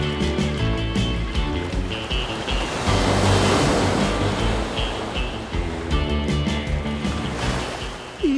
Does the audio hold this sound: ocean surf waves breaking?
yes